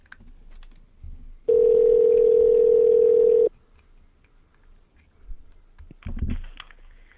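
A single steady telephone dial tone lasting about two seconds before a prank call, preceded and followed by faint clicks and handling noises.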